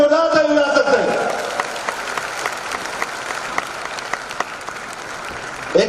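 An audience at an Amway diamond success celebration breaks into loud, sustained applause, sharp claps ringing out for several seconds after a voice trails off, with a brief call at the end.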